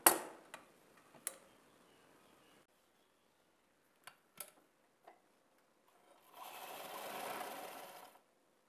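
A sewing machine stitching a saree fall, heard quietly as a few short clicks and taps, then a run of rapid, even stitching near the end.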